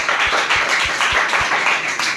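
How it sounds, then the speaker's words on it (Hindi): A seminar audience at a career counselling session claps in a brisk, even rhythm of roughly five beats per second, a close and fairly loud burst of applause without talk. "जोरदार ताली बजाओ जिसने बोला रिस्पांसिबिलिटी"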